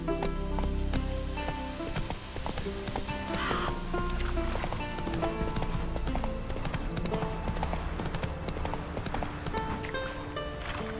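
Hooves of Roach, a horse in a video game, clip-clop in a steady galloping rhythm close by, with a brief whinny and music-like tones running underneath throughout.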